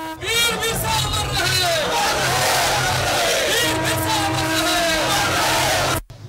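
Congress party supporters at a street rally chant slogans together, a loud, dense crowd of raised voices, shouting and yelling that stays close and continuous before cutting off abruptly near the end.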